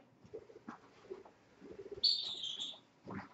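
A pet bird, likely a budgie, gives a short bright chirp between soft low cooing and rustling sounds, quiet and close in an indoor room.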